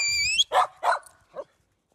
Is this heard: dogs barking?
yes